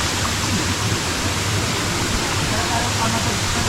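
Falling water from a waterfall pours in a dense, constant roar that fills the whole moment, close and loud with no breaks.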